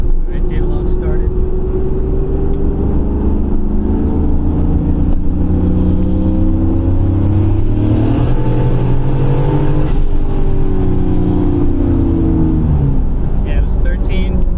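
Boosted car pulls hard under acceleration on a logged test run, a loud, sustained engine roar climbing in pitch from start to finish with no talk over it.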